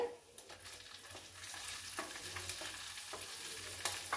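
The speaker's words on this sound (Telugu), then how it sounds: "ఇప్పుడు పచ్చిమిరకాయలు వేస్తున్నానండి" Cut green chilies fry in hot oil for okra chutney, giving a quiet, steady sizzle with a few soft stirring clicks and no speech.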